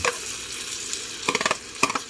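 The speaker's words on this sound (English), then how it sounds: "Good that it's sizzling. That's a good sign that it was hot enough to start." Steady sizzling hiss of fresh corn juice frying in a hot pan, with a few brief scraping stirs near the end.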